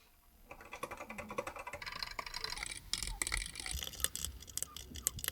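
Someone types a message on a computer keyboard for an MFJ-1480B, with rapid irregular clicking keystrokes that come close and steady and grow louder and busier after the first half second.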